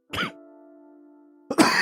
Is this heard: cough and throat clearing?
yes